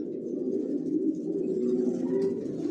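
A racing pigeon coos steadily in a home loft, a low continuous throaty burble held for a few seconds, close and clear with no talking.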